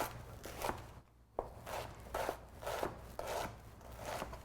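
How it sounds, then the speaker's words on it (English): A knife chops washed Brussels sprouts and kale on a cutting board in a steady rhythm of soft, close strokes about every half second, with no talking. "So I'm just giving them a nice little chop here."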